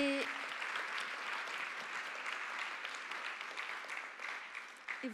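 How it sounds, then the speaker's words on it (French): A conference audience claps for a presenter and panelists, a steady, moderately distant wash of applause lasting several seconds without speech. "applaudissons notre présentateur et nos panélistes"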